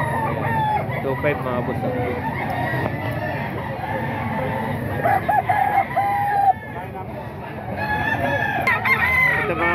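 Roosters crow and cluck at a gamecock market in Grotto, several birds calling loudly and overlapping while someone talks over them.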